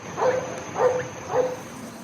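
Three short yips or barks from a dog somewhere behind, moderately distant, evenly spaced over a faint steady background hum.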